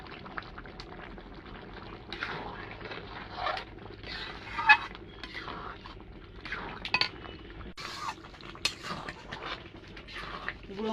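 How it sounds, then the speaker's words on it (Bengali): Ground spices, ghee and roasted cumin powder are stirred into khichuri in a pot, with a long run of scraping and clinking spoon strokes against metal and occasional sharper knocks, close and steady with no talk. "গুঁড়ো মশলাটা ভালো করে মিশিয়ে দিয়েছি।"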